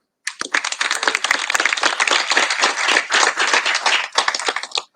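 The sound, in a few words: audience applause for community partners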